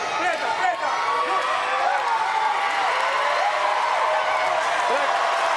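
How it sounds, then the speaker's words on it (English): A large arena crowd at the Paris 2024 Paralympic powerlifting roars and applauds in a steady, loud wash after a 124-kilogram record lift, while a commentator talks over it. "a huge roar from the crowd"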